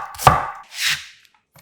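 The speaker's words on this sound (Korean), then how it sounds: "양파 2분의 1개는 살짝 굵게 채 썰고" A knife cuts through half an onion on a cutting board, one sharp close chop followed by a softer sliding stroke, then quiet, with no voices.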